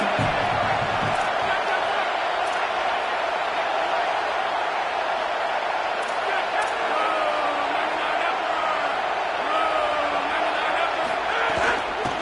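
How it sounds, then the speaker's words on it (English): Loud, continuous roar of a packed college football stadium crowd at LSU, cheering the defense ahead of a big third down, with a commentator's voice faintly over the sustained din. "Big 3rd down as the crowd gets behind this defense."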